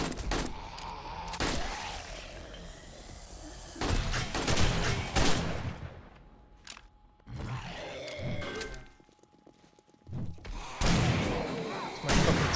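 Automated turret firing in the zombie survival game 7 Days to Die: repeated loud bursts of gunfire with short gaps and a brief lull midway, heavy and close.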